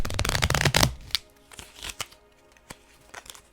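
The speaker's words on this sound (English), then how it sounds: "It was not the best shuffle." A Visconti Tarot deck shuffled by hand, a dense burst of riffling card flutter up front followed by scattered soft taps and card slaps, close and fairly quiet.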